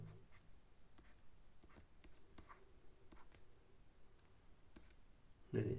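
Marker or chalk writing on a board during a chemistry lesson, a string of short faint taps and scratches, with a louder bump at the end.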